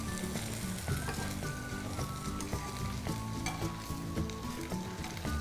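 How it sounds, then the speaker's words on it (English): Thin noodle sheets deep frying in oil, a fairly faint, dense bubbling sizzle with soft crackles running steadily throughout. "Just work quick because these are really thin sheets and they fry up really fast."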